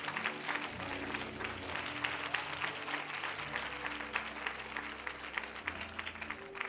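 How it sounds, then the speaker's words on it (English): A church congregation claps along during a worship service, steady dense clapping throughout over sustained organ or keyboard tones, with a few faint voices in the mix. "Clap your hands for Jesus one more time"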